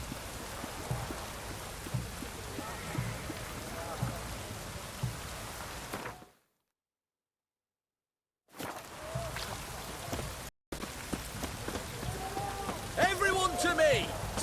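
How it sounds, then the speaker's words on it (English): Steady rain pours in The Witcher 3 video game, a dense hiss of drops that drops out briefly to silence before resuming, with faint voices mixed in. "It's raining, of course it's going to be damp."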